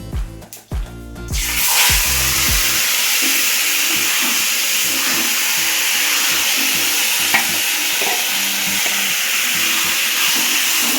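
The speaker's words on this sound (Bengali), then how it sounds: "এবারে এই মাছ দিয়ে দেবো।" Fish dropped into hot oil with bay leaf, cloves and cumin, bursting into a loud, steady sizzle after a few clunks of the pan and utensil, continuing strongly with occasional pops and no talk.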